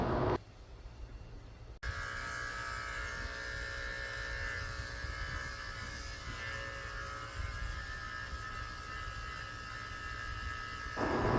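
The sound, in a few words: electric clippers shaving a Yorkshire terrier's belly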